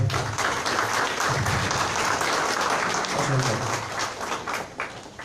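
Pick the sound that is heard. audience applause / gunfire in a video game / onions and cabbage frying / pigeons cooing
audience applause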